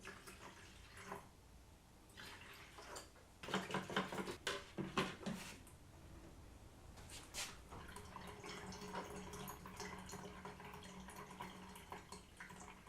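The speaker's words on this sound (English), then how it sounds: "So now let's add some water." Water being poured into paint for a cordless paint sprayer trickles and splashes faintly, with a cluster of louder drips and splashes in the middle and a low, steady liquid rush afterward.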